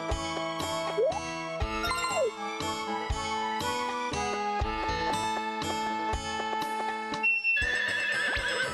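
A horse in the Harvest Moon 64 video game gives a short neighing whinny twice over looping game music with bright chimes and plucked notes, and a jingle plays near the end.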